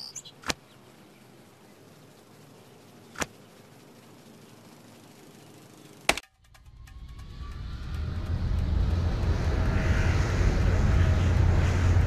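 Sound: float plane flying to the island in the Nancy Drew video game

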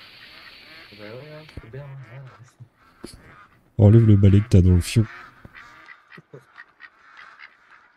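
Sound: duck quacking in video game theHunter Call of the Wild

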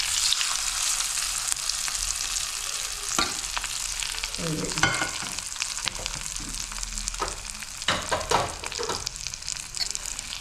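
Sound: curry leaves added to hot pan, sizzling and stirring

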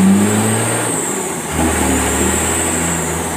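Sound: small engine revving on test drive after governor spring mod

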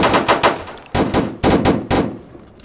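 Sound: gunfire in the video game Roblox

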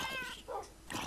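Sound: cat meowing in the video game Minecraft

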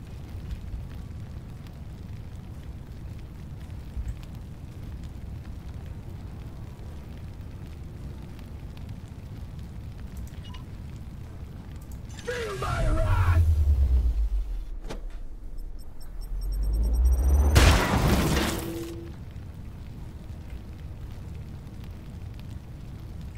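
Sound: precision bombardment explosions in video game Warhammer 40k: Chaos Gate

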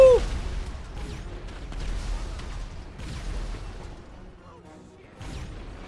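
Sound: gunfire in video game GTA 5

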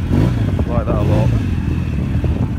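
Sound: BSA motorcycle engine running

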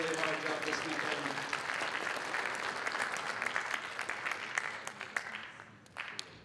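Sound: audience applause for the judges

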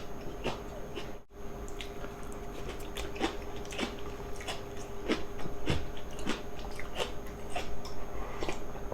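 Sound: eating chicken stew with aged kimchi (mukeunji)

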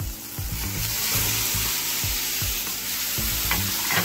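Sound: gnocchi added to pan of sizzling cherry tomatoes and parsley

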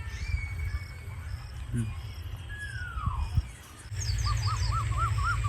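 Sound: koel calling

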